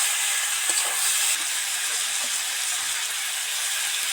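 Vegetables being stirred in hot oil in a pan while cooking a Bengali mustard fish curry with bhola fish, giving a steady close sizzle and fry hiss with faint stirring scrapes, no talking.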